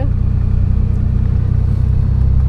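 A car in first gear creeps forward slowly as the clutch is released, giving a steady, loud low engine rumble and drone throughout, with no talking.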